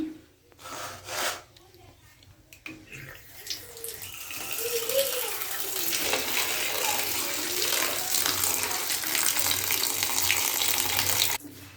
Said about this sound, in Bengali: প্রথমে শাকটা ধুয়ে নেই